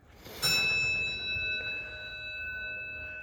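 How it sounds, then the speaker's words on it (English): A bell strikes sharply once near the start and rings on with a long, clear, slowly fading metallic tone, heard indoors in an old church and Masonic keep. "Who are they ringing bells at?"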